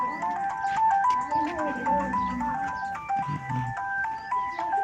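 A repeating electronic melody rings out in steady beeping tones, like a phone ringtone, with voices murmuring underneath.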